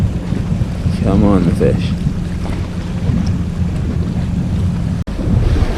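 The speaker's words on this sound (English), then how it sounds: "The back end of the pontoon I'm fishing on is getting covered in water" Water surging and washing over a fishing pontoon at the sea, with steady broadband wave and wind noise throughout and a voice speaking briefly near the start.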